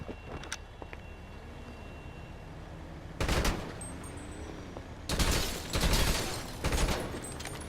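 Rapid gunfire strikes an armored vehicle's windows in Grand Theft Auto V, with two loud sustained bursts of automatic shots after a quieter stretch of distant pops and low rumble.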